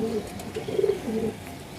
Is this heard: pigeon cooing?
yes